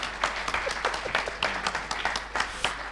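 Audience applause at a seminar hall event, a steady patter of many hands clapping, moderately loud and continuous throughout with no talk over it.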